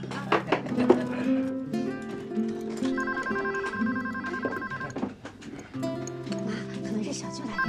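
A phone rings during a family birthday gathering in a Chinese drama, a repeating electronic ringtone sounding under overlapping voices and chatter in the room.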